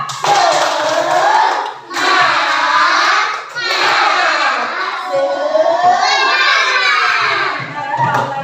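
Children chant tepuk semangat together in a classroom, loud rhythmic shouted phrases in several bursts with brief pauses between, some claps and thumps underneath, close and lively.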